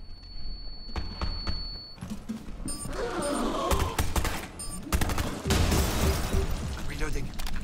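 Gunfire in Rainbow Six Extraction, a fight against a large enemy force, comes as dense bursts of sharp shots and rapid fire over several seconds, loud and close, with players talking over it.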